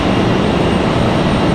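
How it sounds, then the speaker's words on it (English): A Boeing 737 MAX 9 jet arrives at Raleigh-Durham airport from Seattle, a loud steady broadband engine rumble and roar filling the short stretch without variation, no voices. "Here comes our MAX 9 from Seattle, Washington"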